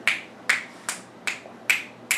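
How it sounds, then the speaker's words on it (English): Six crisp finger snaps at a steady pace of about two per second, close and clear against a quiet background. "Come on, snap my fingers"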